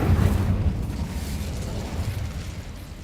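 Hogwarts Legacy's Incendio fire spell goes off as a short, close whooshing burst of flame with a booming onset, trailing into a fading crackle.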